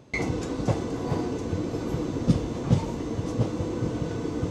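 Onboard the Teesta Torsa Express passenger train from Sealdah, in a 3 AC coach: a steady rolling rumble with rhythmic clickety-clack wheel thumps on the rails, and a brief faint high squeal at the start.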